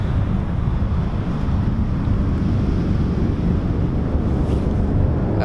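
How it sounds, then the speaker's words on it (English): Large ocean waves roar continuously on a beach in Iceland, a deep, steady surf rumble mixed with heavy wind buffeting the microphone. "So we're on the beaches here by the plane crash, and these are some massive waves."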